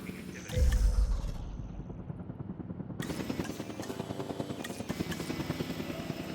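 A dinosaur is airlifted in the Jurassic World Evolution 2 video game, with a loud mechanical whirr and thump at the start, then a steady, rhythmic helicopter-like clatter with creaking machinery throughout.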